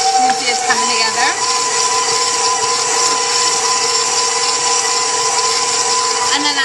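A stand mixer kneads focaccia dough with a steady, loud, even motor whir that runs throughout without a break, with a voice talking over it.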